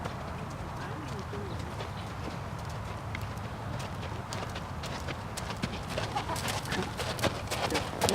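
A horse's hooves clip-clop steadily in a sitting trot during a riding lesson, a quick even rhythm at moderate distance that grows slightly louder toward the end, with an instructor talking over it.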